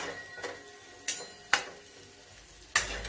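A spoon scraping and knocking against a pan while a potato stir-fry with green chillies is mixed, several sharp clacks over a soft low sizzle, close and quiet.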